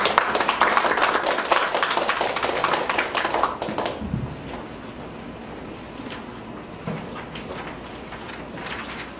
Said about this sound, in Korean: 최은희 연구원님께 다시 한번 박수 부탁드리겠습니다